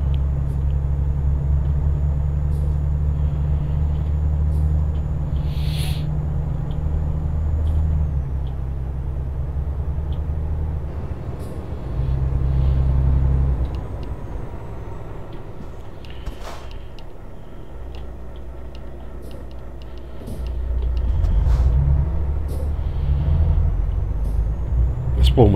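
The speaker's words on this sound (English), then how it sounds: "Why this truck is still going?" A truck rumbles along in a trucking video game, its low engine drone steady with a few hissing air-brake bursts, while a voice talks over it.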